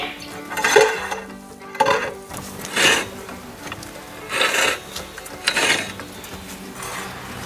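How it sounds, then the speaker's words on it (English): Metallic scraping and grinding in repeated bursts, a hand auger drilling head working into hard ground for a well, with rasping, clanking strokes close by. "Drilling head goes in."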